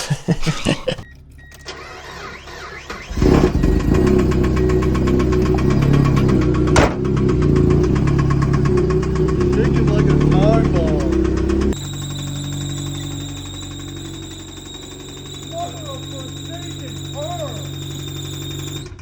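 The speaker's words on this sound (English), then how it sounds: "And so I got terrible rod knock." A Mazda Miata engine with rod knock from a spun bearing runs loud and rough for several seconds, then gives way to a quieter stretch with a high steady tone and speech over it.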